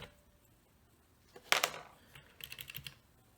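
Keys clacking on a Uhuru UMK-100 wired 60% mechanical keyboard with blue switches: a sharp burst of clicky strokes, then a quieter run of several rapid presses, close and otherwise quiet.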